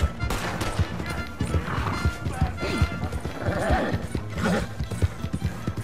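Horse hooves clip-clopping at a run in Red Dead Redemption 2 Online, with neighing amid crashes and thumps, loud and busy throughout, overlaid by game noise and occasional voice.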